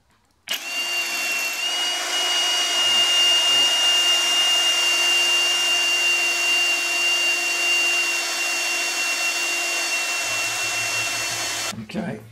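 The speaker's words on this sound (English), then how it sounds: "get them center popped, and we'll get some holes drilled" A drill bores holes for fitting DRO scales to a Victor lathe, spinning up abruptly into a loud, steady whine that holds for about eleven seconds before cutting off.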